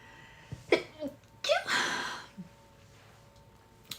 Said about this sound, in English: Ooh, I feel a little sneeze.